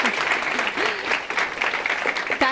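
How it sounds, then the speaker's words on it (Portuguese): A studio audience claps steadily throughout on a Brazilian parliamentary TV talk show about waste and recycling, with a few voices murmuring beneath the applause. "Palmas para ele, gente."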